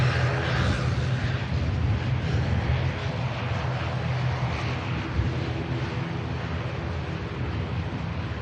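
An IndiGo Boeing Dreamliner airliner touching down produces a continuous low jet roar with a breathy, wind-buffeted texture, steady and moderately distant, with no voices.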